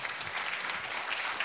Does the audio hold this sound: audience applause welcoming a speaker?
yes